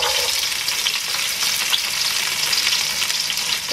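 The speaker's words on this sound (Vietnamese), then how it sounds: "dầu đã nóng, các bạn cho sả vào" Steady, loud sizzling of three crushed, cut lemongrass stalks in hot oil for chicken curry, a continuous crackling hiss with no voices.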